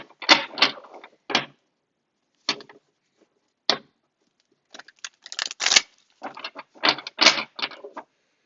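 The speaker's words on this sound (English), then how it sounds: "I'm going to shuffle these cards for you." Tarot cards are shuffled by hand close up, in short papery riffles and slaps that come in irregular bursts separated by silent gaps, with no talking.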